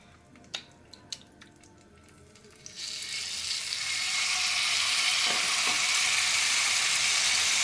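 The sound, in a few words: tandoori chicken frying with butter in gas oven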